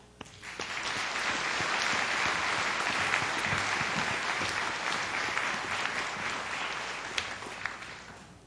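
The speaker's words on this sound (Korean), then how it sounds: "아낌없는 박수를 보내십시다" A large audience at a Kyung Hee Cyber University degree ceremony applauds, swelling quickly into a sustained, dense roar of clapping that holds steady for several seconds and eases slightly toward the end.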